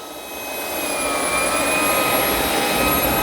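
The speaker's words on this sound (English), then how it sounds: "It does vacuum up going backwards." A Shark PowerDetect IP1255 cordless vacuum runs steadily while being pushed backwards, its loud whining motor and rushing airflow rising slightly at first, then holding constant and close.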